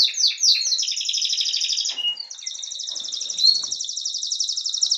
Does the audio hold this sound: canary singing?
yes